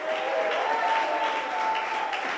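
A church congregation claps together in sustained, dense applause that stays loud and even throughout, filling the hall without any voices standing out.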